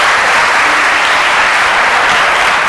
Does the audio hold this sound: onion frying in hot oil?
no